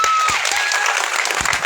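Audience applause at a Rana Punja Bhil statue installation event in Bamniya, Jhabua, a dense steady clapping from a crowd lasting throughout.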